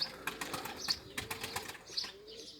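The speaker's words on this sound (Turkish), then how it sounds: "Kuşlarda uçum, gezim ve fişeklerinde çok harbi kanat çalıştırma." Tumbler pigeons beating their wings in flight, a series of rapid, dry flapping bursts repeating in quick rhythm, moderately close and alone.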